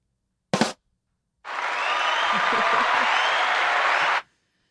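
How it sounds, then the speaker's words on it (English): Hand claps and cheering from a podcast audience as thanks, one brief loud burst followed by a sustained, steady wash of clapping lasting several seconds. "Get some hand claps."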